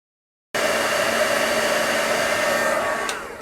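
A hair dryer blows steadily and loudly on an acrylic painting coated with crackle medium, a continuous whooshing hum starting abruptly after a brief silence and running without pause.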